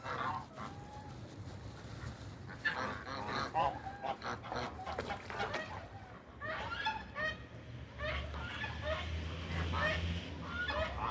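A flock of geese on the Yeşil River honks repeatedly in overlapping, rhythmic calls over steady outdoor background noise, with some calls coming close and loud.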